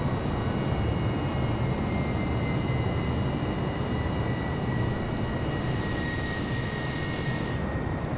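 Airplane engine in flight in Microsoft Flight Simulator, a loud steady broadband roar with a faint high whine held throughout, unchanging and without pause.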